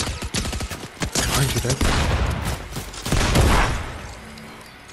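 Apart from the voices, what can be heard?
gunfire in the Fortnite video game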